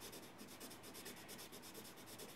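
A fingertip rubs pencil shading into drawing paper with quick, even back-and-forth strokes, a soft, close, rhythmic scratchy whisper heard on its own.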